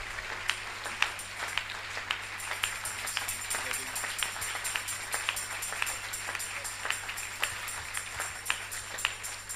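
Cheering and applause from a church congregation, with scattered sharp claps and a steady crowd wash heard under a constant electrical hum. The sound is fairly faint and spread out, with voices mixed in.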